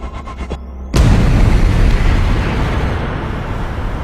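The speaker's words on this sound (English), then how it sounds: "What Baade was referring to was an explosion of simply cosmic scale." Supernova explosion sound effect: a sudden deep boom after a brief quiet lead-in, swelling into a loud rumbling roar that slowly fades over several seconds.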